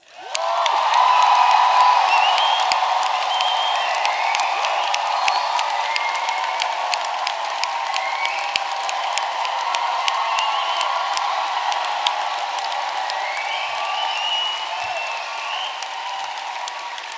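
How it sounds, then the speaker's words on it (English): A graduation ceremony audience at a drama school in London gives a long, sustained round of applause with whoops and cheers rising above it, loud and full throughout and fading only slightly near the end. "I'm going to start by asking you to produce a tremendous round of applause for your principal, Josette."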